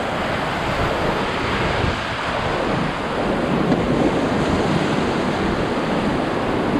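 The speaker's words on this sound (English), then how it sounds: "We're going to foul through a breaking wave." Steady roar of rushing whitewater as a raft runs a breaking wave on the Middle Ocoee rapids, loud and continuous with no voices.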